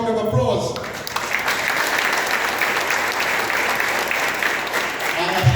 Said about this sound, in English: Honourable Prime Minister, a lusty round of applause.